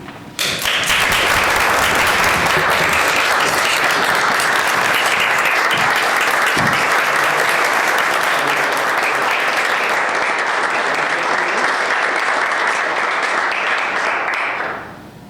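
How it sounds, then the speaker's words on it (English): A room full of people at a city council meeting breaks into warm applause for a retiring staff member, loud, dense clapping that holds steady for about fifteen seconds before tapering off. "Warm applause."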